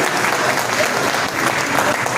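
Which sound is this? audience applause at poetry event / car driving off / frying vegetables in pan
audience applause at poetry event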